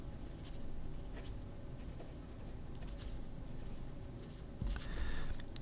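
A brass Hongdian M2 pocket fountain pen with a medium nib scratching across paper, a faint, steady scritching with small strokes, close and quiet without talk.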